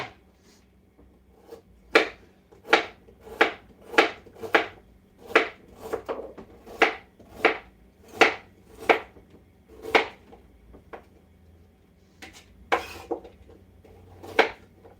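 A knife slices vegetables thin on a cutting board for chicken and dumplings, making a steady run of about sixteen crisp, close chopping strokes with brief gaps, heard alone.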